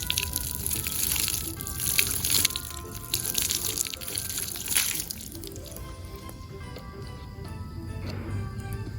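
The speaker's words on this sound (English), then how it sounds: "And then you take your water and you just pour right over it." Water poured over a tumbler while making a Christmas powerwash tumbler, giving a close, splashing gush that runs for several seconds and then eases into softer trickling and dripping.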